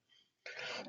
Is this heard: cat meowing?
no